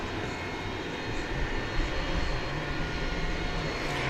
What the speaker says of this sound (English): ex-VASP MD-11, the one that's backing out there